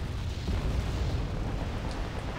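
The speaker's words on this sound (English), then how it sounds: "they have some heavy artillery and they're going to be shelling the city even more" Heavy artillery shelling a city in Wargame: Red Dragon, heard as continuous rumbling blasts that merge into a dense, loud roar, with no talk.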